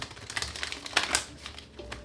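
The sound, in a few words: shuffling tarot cards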